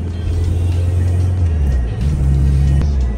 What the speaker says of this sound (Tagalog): magda-downshift ako. Parang nabutas yung exhaust natin.